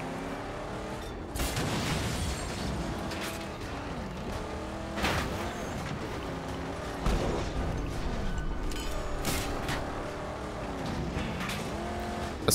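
In the Mad Max video game, a car engine drones while tires squeal repeatedly in rising and falling screeches through a long stretch of driving, loud and continuous with no talking.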